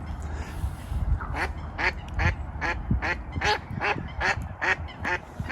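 A bird calls repeatedly in a steady series of harsh, quacking notes, fairly close, over a rumbling background.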